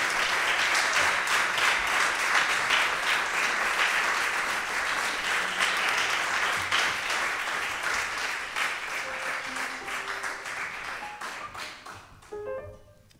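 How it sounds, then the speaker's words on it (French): An audience at the Foyer des Marins de Rouen applauds performer Juliette, with lively clapping from a roomful of people that slowly thins out, ending in a few scattered claps and soft voices. "Vous pouvez applaudir Juliette."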